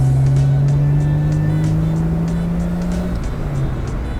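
A naturally aspirated Mazda Miata making 230 wheel horsepower drones steadily and loudly from up close while driving, its engine note rising gradually and then easing off near the end, alone with no talk.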